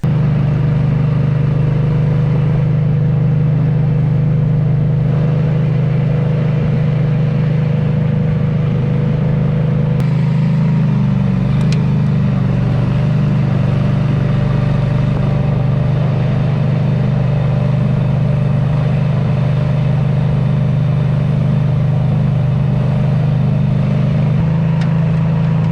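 The outboard engine of a budget duck hunting boat runs steadily and loudly on the water for a long stretch, a continuous low droning hum with wind noise and no talk.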